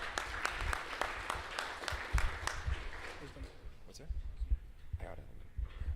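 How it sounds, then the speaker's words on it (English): Scattered audience clapping at a blockchain industry presentation event, a handful of sharp individual claps that thin out and fade over several seconds, with murmured voices underneath. "Can we have a round of applause again, please, for our next hack?"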